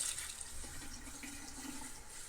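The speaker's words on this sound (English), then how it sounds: "Turn on the water here." Water runs from a sink faucet during cleaning of a stinky sink drain, a faint, steady hiss and splash over a couple of seconds with no speech.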